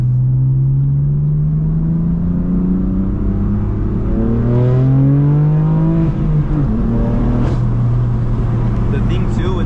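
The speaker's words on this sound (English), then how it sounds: "let the turbo spool a little bit and then it pulls a little better" Turbocharged BMW M4 F82 with a manual gearbox and competition package accelerating on a road, heard from inside the cabin as a loud low engine drone rising steadily in pitch while the turbo spools.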